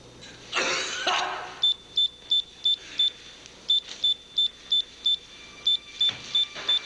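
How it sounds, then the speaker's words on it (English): An electronic pager beeps in short, even bursts, grouped in runs of four or five with brief pauses between. The sharp, clear tones follow a soft rustle at the start. "Look, that's a beeper going off."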